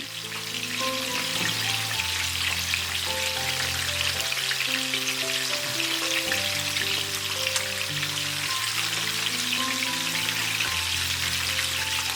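Koi fish frying in oil, a close, steady crackling sizzle that runs unbroken from start to finish, with background music playing underneath and no one speaking.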